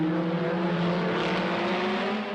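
Renault Alpine A210 race car with its Renault Gordini 1300 cc engine, a steady loud engine drone holding an even pitch throughout, heard alone without talk.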